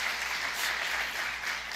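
A church congregation applauds during a Sunday service, a brief, steady wash of clapping at moderate volume with no talking.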